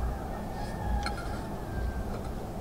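A single chicken squawks briefly in the middle against a noisy outdoor background.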